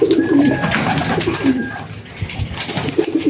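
Racing pigeons cooing in a loft, low throaty coos repeating steadily over a busy, noisy background, near and fairly loud.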